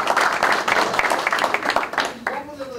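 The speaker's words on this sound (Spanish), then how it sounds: "Así que un aplauso para ella." An audience at a beach soccer course breaks into applause, a burst of dense, close clapping that fades after about two seconds, with a voice talking over the end.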